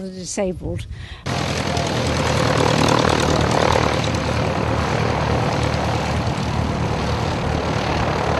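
A British propeller light aircraft in Vinnytsia roars loudly and steadily overhead, a dense continuous engine drone that starts abruptly after a brief voice and then fills the rest of the clip.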